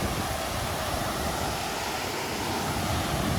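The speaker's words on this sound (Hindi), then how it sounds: "अभी मेरे बैकग्राउंड नॉइज़ में आवाज़ आ रही होंगी थोड़ी बहुत वाटरफॉल की" Rushing water at the upper side of Kukadi Khapa waterfall in Madhya Pradesh, a dense, constant roar heard at steady loudness with wind-like broadband noise.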